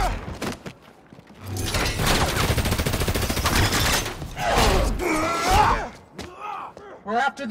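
Rapid bursts of automatic gunfire in the video game Spider-Man: Miles Morales, loud and dense over several seconds, mixed with mechanical clanks and game voices.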